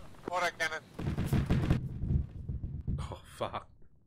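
Deep booming cannon blasts in a military shooter video game, a long rumbling salvo followed by a shorter burst, with a brief excited shout near the start.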